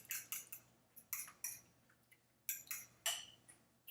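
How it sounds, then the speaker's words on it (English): A utensil clacks rapidly against a bowl as eggs are beaten into a scrambled mixture, sounding as quick bursts of faint clinking taps with short pauses between them. "You just keep beating and beating, at least for 1 minute"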